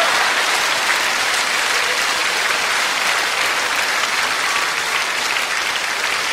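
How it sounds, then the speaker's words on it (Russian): Sustained audience applause fills a theatre during a stage performance of the comedy "Svakha Khanuma", dense and steady throughout with no pauses. "Спасибо, это ваши аплодисменты, Олег!"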